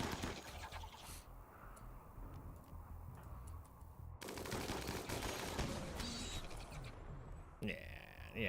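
Gunfire crackles through a RimWorld colony battle, with rapid repeated shots and clicking bursts running steadily in the background while people talk over much of it.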